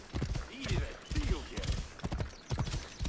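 Horse hooves clip-clop in a steady rhythm while riding in the video game Assassin's Creed Origins, with a brief whinny and someone talking over the hoofbeats.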